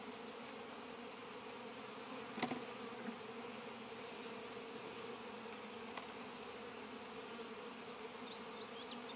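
Honey bees buzz steadily around an open, well-populated hive during an inspection, a constant dense drone with a couple of faint knocks.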